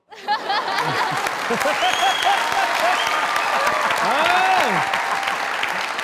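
A studio comedy-show audience breaks into sustained applause mixed with chuckles and laughter, loud and continuous after a sudden start, with a voice briefly rising over it.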